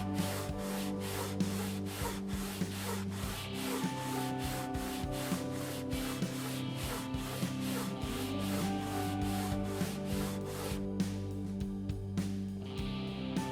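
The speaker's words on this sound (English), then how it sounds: "So let's get back to sanding." Rhythmic back-and-forth sanding to level a wooden guitar fretboard, a steady series of scratchy strokes repeating close by, with no talking.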